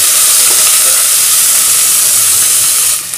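Curry leaves, small shallots and coriander stems tempering in hot oil for a country chicken gravy give a loud, steady, dense sizzle and hiss that runs continuously, easing off slightly at the very end.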